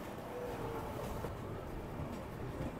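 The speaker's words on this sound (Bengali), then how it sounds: "এই কিশনগঞ্জ স্টেশন ছেড়ে দিল। এই যে বেরিয়ে যাচ্ছে প্ল্যাটফর্ম ছেড়ে।" Kanchankanya Express pulling out of the platform at Kishanganj station, a faint, steady low rumble and broadband rail noise that continues evenly without voices.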